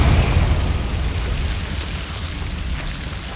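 A Confringo blasting curse goes off in the video game Hogwarts Legacy, a loud, rumbling burst that decays into a noisy roar over a few seconds.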